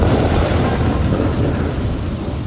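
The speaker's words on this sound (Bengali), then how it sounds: "বৃষ্টির পানি মুখে পড়ছে" A story sound effect of heavy rain and thunder gives a dense, loud, continuous downpour hiss and low rumbling throughout, with no voices.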